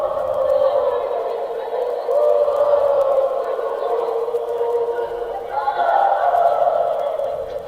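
UCF football fans chanting in a stadium, a distant sustained mass of voices rising and falling in long drawn-out swells, droning steadily without clear words.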